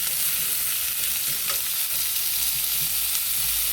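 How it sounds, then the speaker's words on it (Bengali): Potatoes fry in hot oil for a simple vegetarian curry, a loud, even hiss and crackle running throughout with occasional soft stirring knocks and no voices. "এবার আলুটা ভেজে নেব"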